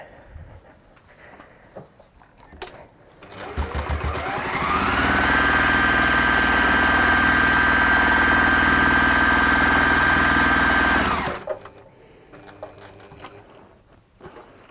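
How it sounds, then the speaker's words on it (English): Sewing machine top stitching around the top of a fabric bag, a loud steady motor hum with a rapid mechanical patter that ramps up, runs continuously for about seven seconds, then stops abruptly. "we're going to top stitch around the top of the bag"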